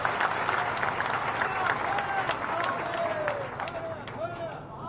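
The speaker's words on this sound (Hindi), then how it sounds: "श्रीमंत महाराज जी के लिए जोरदार ताली बजाकर स्वागत करें" Crowd applause welcoming a government minister at a Peshwa Bajirao I birth-anniversary floral tribute gathering in Khargon, steady scattered clapping over about five seconds with an amplified voice talking over it.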